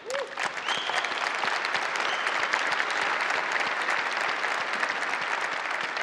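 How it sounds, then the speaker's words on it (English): A large audience applauds steadily for Innovation Award winners during a conference general session in Las Vegas, a dense, even roar of clapping that holds throughout with a brief whistle near the start. "big round of applause to our Innovation Award winners"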